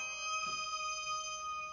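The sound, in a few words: Erica wavetable oscillator with stepped random wavetable position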